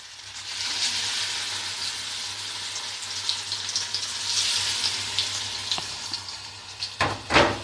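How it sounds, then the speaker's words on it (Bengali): Vegetarian fish-shaped pieces sizzle and crackle in hot oil in a kadai, a steady bright frying hiss with a few clinks and stirring sounds toward the end. "এগুলো ভেজে নেব।"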